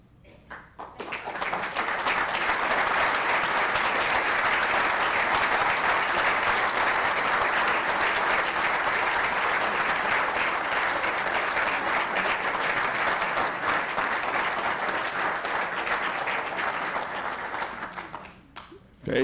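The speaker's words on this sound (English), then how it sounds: "lead a round of applause for you" Sustained, dense applause from a large audience fills a hall at an annual institutional ceremony, rising quickly, holding steady and loud for most of its length, then tapering off.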